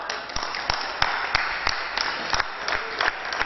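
Audience at a comedy stage drama applauds in a steady patter of claps, with a few louder individual claps standing out, moderately distant.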